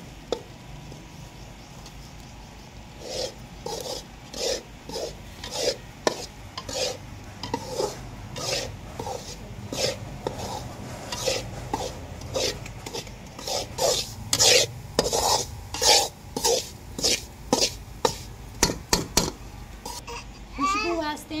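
Flour and semolina being stirred while roasting in a pan, repeated rhythmic scraping strokes near and fairly loud, quickening toward the end, with someone talking quietly underneath.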